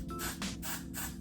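Hair spray hisses onto a soft wig in three short bursts, close but quiet, with brief pauses between them.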